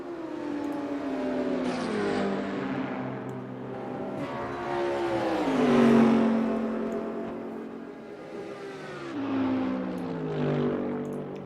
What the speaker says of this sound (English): But do you not want to hear the cool race cars?